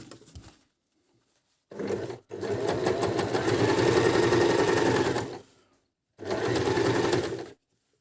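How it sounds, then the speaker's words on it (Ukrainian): A Janome Q33 sewing machine runs in loud close bursts of fast rhythmic stitching, three separate runs with short pauses between them and no talk over the motor. "Не бійте швейну машинку, беріть просто і працюйте"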